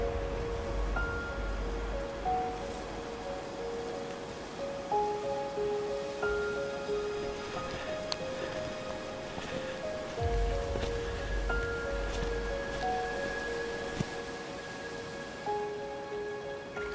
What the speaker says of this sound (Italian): si sente solo il rumore delle cascate e dei ruscelli